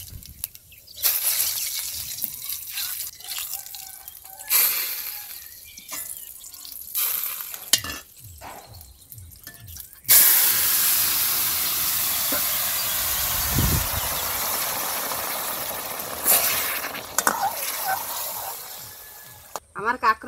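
Cumin seeds drop into hot oil and set off a loud, steady hiss and sizzle that lasts for about ten seconds. Softer clinks and kitchen noises come first, and the frying fades slightly toward the end.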